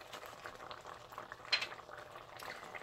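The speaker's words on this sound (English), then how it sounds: "you want to bring this to a boil" Beef stroganoff sauce, with browned beef, Dijon mustard, salt, pepper and paprika, bubbling at a boil in a pot. The simmer is soft and steady, with a brief louder bubble or utensil clink partway through.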